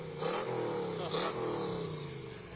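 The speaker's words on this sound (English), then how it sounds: "Is there a value for the engine to be revved in that way?" A car engine revs at a cruise night, two loud throttle blips rising and falling in quick succession over a rumbling idle, with faint crowd chatter around.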